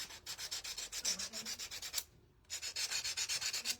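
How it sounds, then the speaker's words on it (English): Hand sanding a painted wooden craft piece for a St Patrick's Day house kit, with rapid rhythmic back-and-forth rasping strokes close up, a short pause partway, then more brisk strokes. "This one I need to sand really quick because there is stuff on it that doesn't belong."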